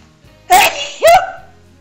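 Two sharp, loud bursts about half a second apart, a sneeze-like explosive onset each time, standing out against a quiet background.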